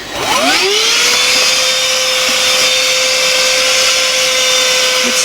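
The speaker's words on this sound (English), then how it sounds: "Let's get me a Hoover for starters." A Hoover vacuum cleaner switches on and spins up with a rising whine, then settles into a loud, steady, close motor drone that continues to the end.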